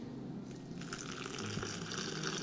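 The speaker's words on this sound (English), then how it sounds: "I boiled some water, 4 cups of water, and now we're gonna put that" Boiling water poured into a jar of dandelion petals: a steady, close pour of liquid gushing and filling the jar, loudest toward the end.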